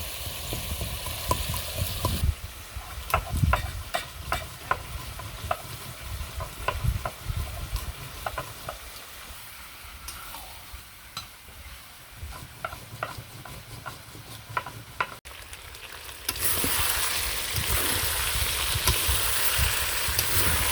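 Whole garam masala spices (cardamom, cinnamon, cloves) frying in a pan while being stirred, a steady close sizzle broken by repeated scraping strokes, then a louder, denser hiss near the end; no talking.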